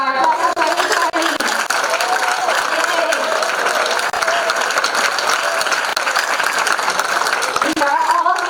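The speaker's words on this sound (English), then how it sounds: "Let's give a big round of applause to our class of 2020." A big round of applause for the class of 2020 at a freshman convocation fills the hall, continuous and loud, with crowd cheering and voices threaded through the clapping.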